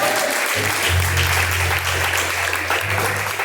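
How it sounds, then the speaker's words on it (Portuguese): A church congregation claps in praise during a live worship service, a loud, continuous roar of hands with a low steady hum of music or organ running underneath. "Palmas que louva o Senhor"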